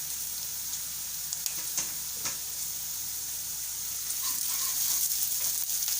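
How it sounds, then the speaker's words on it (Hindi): Onions frying in a pan with ginger garlic paste for Banjara dal, giving a steady, soft sizzle with a few light stirring clicks and no talking. "प्याज हल्का सा फ्राई हो जाए, हल्के से पिंक हो गए हैं"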